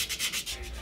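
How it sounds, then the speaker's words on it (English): Quick, rhythmic rubbing strokes of sandpaper against a hard carving, soft and close, repeating several times with no talking. "sanding is my favorite part"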